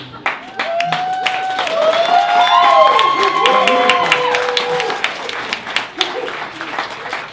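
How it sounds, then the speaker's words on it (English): An audience at a reading claps for an author, with whoops and high whistle-like cheers rising over dense clapping that swells in the middle and thins toward the end. "So clap after I read this."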